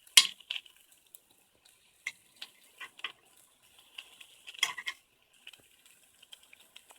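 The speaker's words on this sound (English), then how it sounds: "I'm gonna try and flip the omelette" A vegetable and cheese omelette is flipped in a pan with a fork, giving sparse, faint scrapes and light metallic taps scattered over near silence, with a brief cluster of scraping in the middle.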